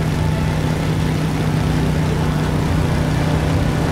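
Steady engine drone of a car being driven in the video game Beyond: Two Souls, a constant low hum with a faint tonal line, continuous and fairly loud, with no talking.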